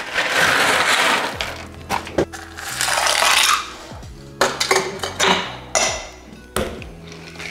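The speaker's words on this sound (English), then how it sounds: "just add some ice, get it shaken up" Ice rattles and crashes inside a cocktail shaker in loud, rough bursts while an Eggo Nog holiday cocktail is mixed, followed by clinks and handling of metal and glass.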